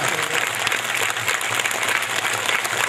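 A gathered audience at a religious discourse claps steadily and vigorously, a dense continuous patter of many hands with no speech over it.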